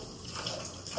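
Water used for washing chicken is poured into a bucket, a faint, steady splashing pour that runs evenly through a brief moment with no voices.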